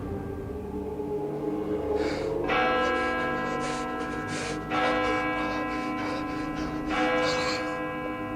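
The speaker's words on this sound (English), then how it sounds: "In a moment, bells will chime." Bells chime repeatedly from a video being played, ringing strikes layered over a steady low hum, fairly loud and continuous with a brief dip midway.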